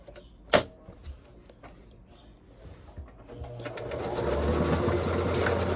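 A sewing machine starts up after a sharp click and soft handling taps, its motor building into a steady whirring run as fold-over elastic is stitched, close and moderately loud.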